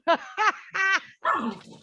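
A small dog gives a few sharp, high yips and barks in quick succession, close by, with a squeakier whining bark at the end.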